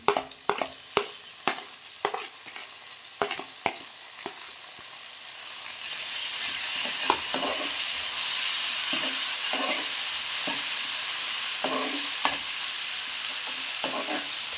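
Chopped ginger, garlic and green chili are stirred into light golden-brown frying onions: a few sharp scraping stirs, then a steady loud sizzle and hiss that continues with occasional stirring knocks, with no talking.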